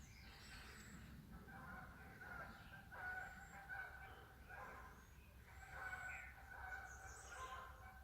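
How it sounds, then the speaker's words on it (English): Faint, distant Canada geese give repeated honking calls outdoors at a rural hunting spot, rising in clusters over low, steady background rumble. "Canadian geese."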